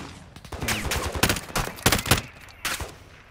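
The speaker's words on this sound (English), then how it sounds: "We're being shot at." Gunfire in the Call of Duty: Modern Warfare II video game, loud nearby bursts of automatic fire with several sharp reports in quick succession, then a final burst.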